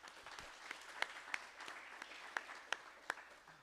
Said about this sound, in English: So a round of applause to yourselves for coming to Storytelling.